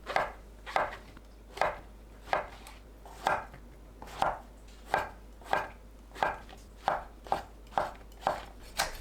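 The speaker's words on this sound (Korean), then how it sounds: "새송이버섯을 두께 1cm, 길이 5cm 크기로 썰어줍니다." A knife cuts king oyster mushrooms into thick strips on a cutting board, producing about fifteen crisp, evenly spaced thuds at a steady unhurried pace, close and clear with no talk.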